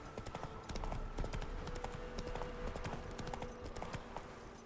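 Geralt's horse Roach gallops in The Witcher 3, hooves clip-clopping in a steady, close rhythm over game ambience for the whole stretch, with a faint whinny.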